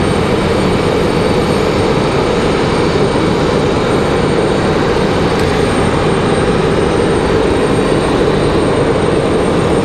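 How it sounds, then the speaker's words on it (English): An American Airlines Boeing 737 taxiing toward the runway at Raleigh-Durham airport on a stormy day: a constant broad jet-engine roar, loud and unbroken, with no voices. "we got that American 737 pushing out to the runway"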